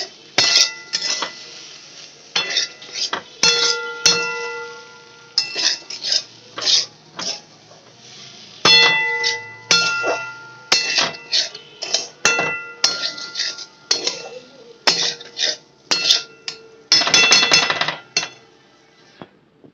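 A utensil stirs and scrapes aloo morich, a potato and chili dish, in a metal pan, making repeated clinks and clanks in irregular bursts with brief pauses between them, close and fairly loud.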